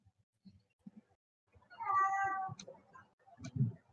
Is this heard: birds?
no